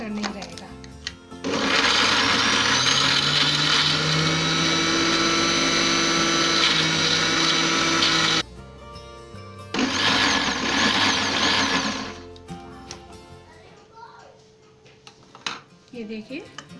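An electric mixer grinder blends raw mango and onion chutney with a loud, steady whirring roar. The motor runs in two long bursts separated by a short pause, then falls quiet while people talk.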